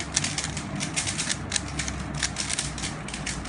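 Rubik's cube being shuffled at a cube competition, rapid plastic clicking and rattling turns in a dense, continuous stream, close and fairly loud.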